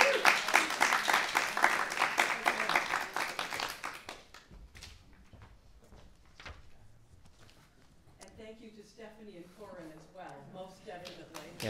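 Applause from an opera concert audience, dense clapping at first that thins out after a few seconds, followed by scattered taps and then a voice talking.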